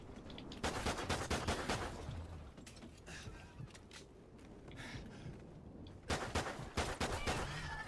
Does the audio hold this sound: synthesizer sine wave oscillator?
no